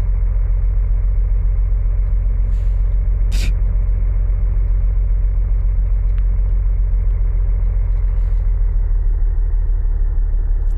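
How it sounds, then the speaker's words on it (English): A car engine in a video game, a loud, steady low rumble as it drives over dirt, constant throughout with a couple of faint clicks. "My car runs really poorly on the dirt"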